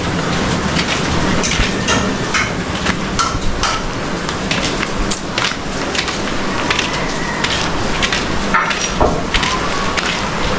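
Steady rain patters densely on a house roof and window, a continuous loud hiss with frequent sharp taps and clatters, with no voices.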